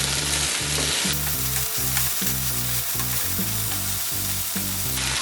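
Kerala-style dry pepper chicken with garam masala and black pepper frying in a pan, a loud steady sizzle with a rhythmic pulsing undertone of stirring throughout, no speech.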